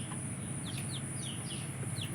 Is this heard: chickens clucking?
yes